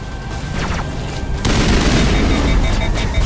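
A frag grenade goes off in the video game Mass Effect: a sudden, loud broadband blast about halfway through, after gunfire-like noise, followed by a sustained roar of rumbling debris and combat noise that stays loud to the end.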